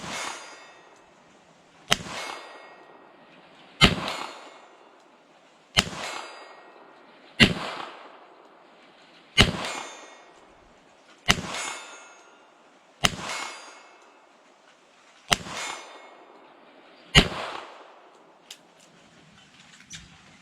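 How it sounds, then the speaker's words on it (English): Ten sharp, evenly spaced .22lr revolver shots from a Colt King Cobra Target, each followed by the clang of a steel plate struck at 40 yards outdoors, every report ringing briefly before fading into quiet. "But we're going to shoot at 40 yards."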